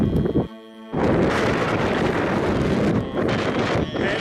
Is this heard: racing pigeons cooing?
no